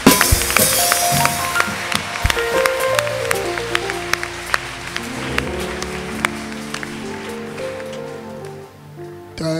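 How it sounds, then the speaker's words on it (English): A church congregation gives a sustained round of clapping as an offering to Jesus, dense rapid applause over soft sustained keyboard chords, gradually easing. "please give a clap offering to Jesus."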